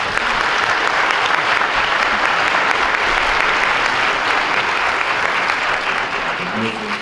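Steady audience applause fills a school district recognition ceremony, loud and dense throughout, with a voice briefly rising near the end.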